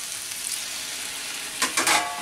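Potato and a splash of water going into a hot frying pan for a Bengali vegetarian papaya ghonto, a steady bright hiss that swells abruptly into a louder burst of sputtering sizzle near the end, with no voices.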